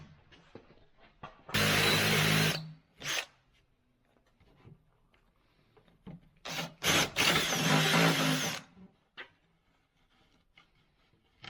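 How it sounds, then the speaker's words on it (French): A cordless drill with a flat spade bit bores into material while fitting a bamboo post mounting plate, two loud bursts of drilling, one short around two seconds and a longer one near seven to eight seconds, with quiet handling between. "On vient prendre notre visseuse avec la mèche plate."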